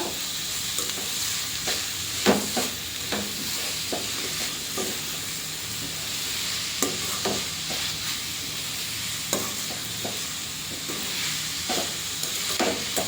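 Beetroot halwa being stirred as it cooks in ghee in a pan, with a steady soft sizzle and repeated scraping strokes of the spoon at an irregular rhythm, close by and fairly quiet, with no talk.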